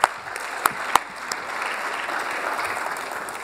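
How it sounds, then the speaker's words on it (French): An audience at a startup pitch contest final applauds steadily, with a dense wash of clapping and a few sharp close claps at the start. "on l'applaudit"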